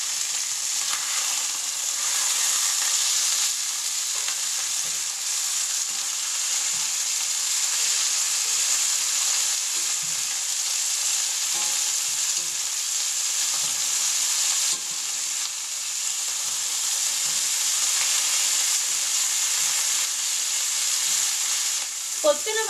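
Pieces of rabbit meat fry in a pan with a steady, close, bright sizzle that holds evenly for the whole stretch, with small stirring clicks scattered underneath and no voices.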